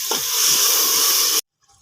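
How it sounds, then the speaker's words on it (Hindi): Water poured into a cooking pot of spiced beef keema with lobia beans, a steady loud hissing, splashing pour lasting just over a second before cutting off sharply into near silence. "इसमें थोड़ा सा पानी डालेंगे।"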